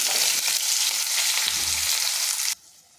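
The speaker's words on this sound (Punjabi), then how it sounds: "ਤੇ ਲੋ ਜੀ ਆਪਾਂ ਵਿੱਚ ਹੀ ਪਾ ਦਿੱਤੇ ਪਿਆਜ਼" Onions sizzle and hiss steadily in hot oil in a pan while dal is being made, a loud, dense frying crackle that cuts off abruptly near the end.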